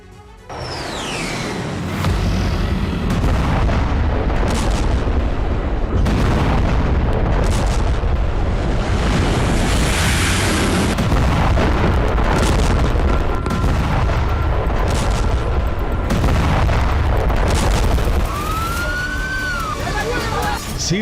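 Heavy explosions from an Israeli airstrike in Syria, with fire and sparks rising: loud, continuous rumbling blasts and booms that run nearly the whole stretch, with wailing siren-like tones rising and falling over the din.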